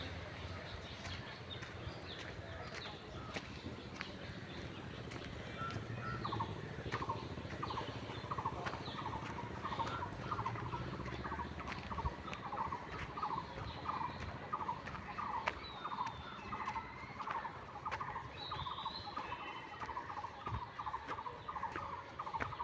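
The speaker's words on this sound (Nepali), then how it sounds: "Birds chirping is so stunning." Birds call repeatedly in Ranibari forest in Kathmandu, with one steady, rhythmic chattering call running for long stretches over a dense, continuous backdrop of other birdsong, at moderate distance and fairly loud.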